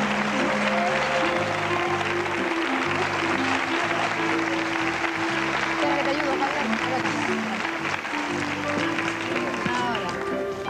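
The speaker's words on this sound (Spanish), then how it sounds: "este fuerte aplauso del público" A studio audience on the 1983 Spanish game show Un dos tres gives the departing champions loud, sustained applause, while a steady musical tone and scattered voices sound beneath the clapping.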